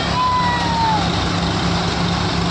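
Swaraj 855 tractor engine held at high revs while driving a Rajasthani cutter machine, a loud steady drone that fills the whole stretch with no pause.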